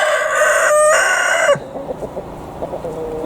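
A cockerel crows loudly and close by, one long strained call, followed by soft clucking and scratching.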